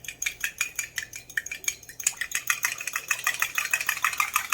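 Four eggs being whisked in a bowl, a fast, regular clatter of the whisk against the bowl's sides, close and loud, the rhythm quickening slightly midway, with a faint hum underneath and no talking.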